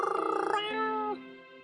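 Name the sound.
cat purring loudly, from the video game Choices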